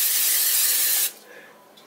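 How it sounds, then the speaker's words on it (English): A close, loud aerosol cooking spray hisses in one sustained burst for about a second, then stops, leaving quiet room noise. "and some cooking spray"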